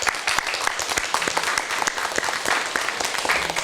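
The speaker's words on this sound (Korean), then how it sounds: "우리 일어나서 인사할 때 박수로 환영하겠습니다." A church congregation in Korea applauds during Sunday worship to welcome a new young member, with dense, steady clapping from many hands filling the room throughout.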